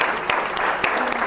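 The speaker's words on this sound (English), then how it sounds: "Round of applause." Audience applause in a lecture room, a brief burst of steady clapping from many hands, moderately loud and even throughout.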